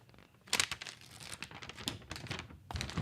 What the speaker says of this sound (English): It sounds like Christmas wrappings paper.